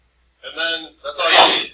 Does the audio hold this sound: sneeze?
yes